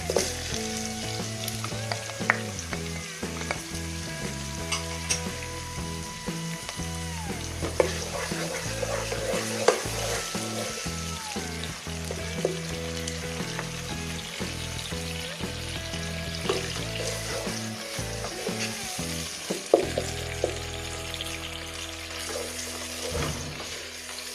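Onion, garlic and tomato frying in a pan for a ghiya tori (bottle gourd and ridge gourd) dish: steady close sizzling with occasional stirring scrapes and clinks, continuous throughout, no voices.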